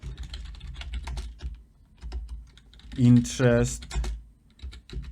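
Fingers type on a computer keyboard in quick, close clatters, pausing once while someone briefly speaks over the keys.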